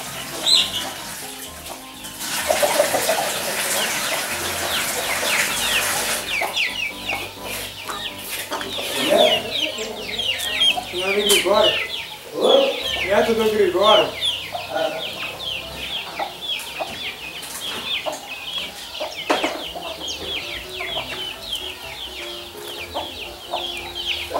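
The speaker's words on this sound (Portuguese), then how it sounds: "Esse aí é o galo índio gigante." A large giant Indian breed rooster crows loudly and clucks several times nearby, with other fowl calling around it in a farmyard setting.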